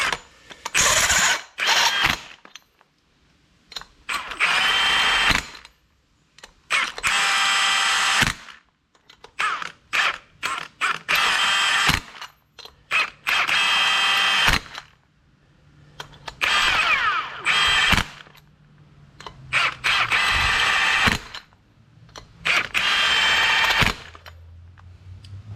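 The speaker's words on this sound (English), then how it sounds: "this is where a nice impact comes in handy, because you can suck these up with the impact." Impact wrench zipping lug nuts onto the front wheel hub of a 1994 Ford F-350 4x4 during a bearing and brake job, in a string of loud whirring bursts of one to three seconds, alone without talk.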